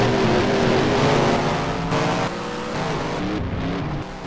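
Race cars roar off at the green flag at Spencer in a modified-series racing video game night race, a loud, continuous multi-engine drone with engine pitch rising as the pack accelerates.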